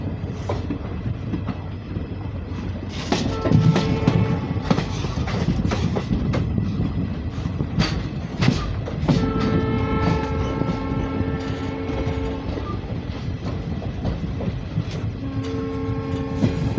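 Diesel passenger train on the Dooars rail route, a close rolling rumble with clattering wheel-on-rail knocks and a long horn sounding in bursts over the steady running noise.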